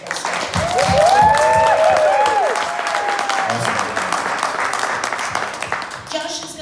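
After a live music set, an audience applauds. The clapping swells in the first seconds, then tapers under a person speaking, while a few whoops rise above it.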